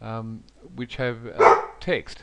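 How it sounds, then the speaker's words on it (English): A dog barks indoors in a few short yips and bow-wows at close range, mixed with someone speaking over it. "Sorry, that's my dog."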